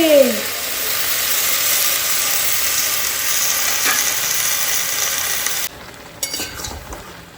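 Spice paste sizzles and fries in a kadai as a steady, close hiss that carries on without a break, then suddenly cuts down to quiet, with a few faint clinks near the end.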